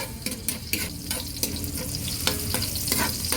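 Garlic sizzles in hot cooking oil in a pan on the stove, a steady frying hiss broken by scraping stirs from a utensil, heard close and alone.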